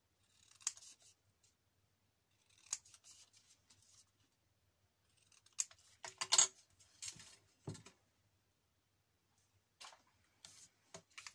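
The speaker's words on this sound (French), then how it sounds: "Et on vient couper ça." Scissors cut paper for a small handmade notebook in short, crisp snips, spaced irregularly with quiet pauses between them, close and clear in a silent room.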